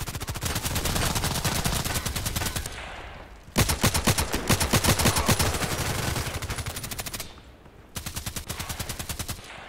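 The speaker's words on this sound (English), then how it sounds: "Seven shots." Rapid automatic gunfire in the online shooter Contract Wars, an RFB rifle on the Terminal 2 map, loud close bursts of shots in three long strings separated by brief pauses.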